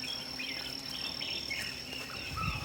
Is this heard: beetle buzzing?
yes